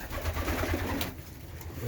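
Homing pigeons coo softly and continuously nearby, a low murmuring warble against a faint background hum.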